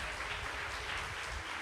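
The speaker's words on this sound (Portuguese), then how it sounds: "Quem pode aplaudir ao Senhor?" Church congregation applauding during a sermon, a steady wash of clapping at moderate volume for a short stretch with no speech over it.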